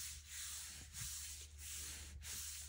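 A craft piece is rubbed down into place by hand, giving a close, soft, scratchy rubbing in several repeated strokes, with no talk over it.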